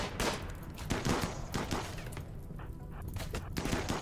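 RimWorld gunfire, with rapid bursts of shots popping repeatedly at a moderate level that form a continuous ragged barrage throughout, and no voice over it.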